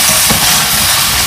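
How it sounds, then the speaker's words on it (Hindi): Potatoes and cauliflower pieces frying gently over low heat in a little oil in a pan, a soft continuous hiss and crackle close by. "सिम आँच में ही हमें इसे इस तरह से फ्राई करना है"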